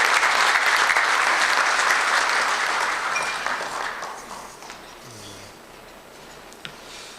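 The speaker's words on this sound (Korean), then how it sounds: "박수 확실하게 한번 더 쳐주시죠." Loud applause from the audience at a small-business CEO forum, a dense clapping roar that fades over several seconds into quiet room tone, with a few stray claps near the end and no voices.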